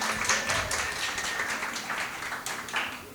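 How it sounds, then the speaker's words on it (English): At a climate pavilion panel discussion, an audience claps to welcome a speaker to the stage, a moderate, uneven patter of applause from a modest crowd with some murmuring underneath. "Also with a big round of applause"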